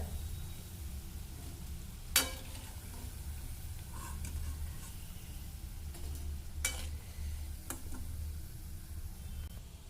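Palak and cabbage manchurian balls deep frying in a kadai of hot oil, a steady soft sizzle throughout with a few sharp clicks and scrapes of a utensil, and no talking.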